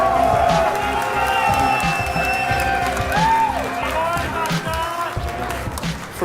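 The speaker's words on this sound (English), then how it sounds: "One more time, ladies and gentlemen, a round of applause." A crowd applauds and cheers at a live Clash Royale tournament in Helsinki, with dense clapping and whoops running throughout and a tone ringing over the hall.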